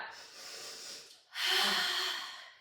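Close, audible breaths from a person doing the Pilates hundreds exercise on a mat: one long inhale, a short pause, then a stronger, longer exhale, with no talking.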